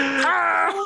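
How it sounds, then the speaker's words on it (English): A person makes a drawn-out, exaggerated yawn in the style of Pee Wee Herman, a loud, close, wavering groan lasting under a second. "It's fucking Pee Wee Herman yawn."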